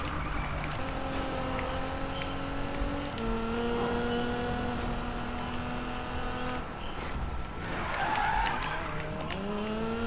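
A Nissan GT-R in the Need for Speed racing game brakes hard, its tires squealing and skidding in long, loud wavering tones over steady engine noise that continues throughout.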